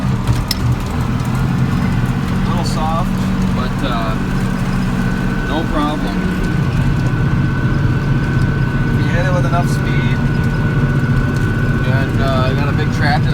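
A tractor drives through a soft field over combine ruts, its engine giving a steady, loud low rumble that shifts in pitch partway through, while someone talks over it.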